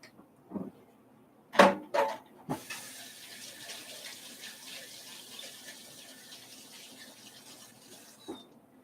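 Kitchen tap water running while items are washed after making mayonnaise, a soft steady stream following a few sharp clatters and knocks near the start.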